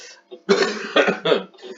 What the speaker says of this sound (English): I might be coughing during this video as well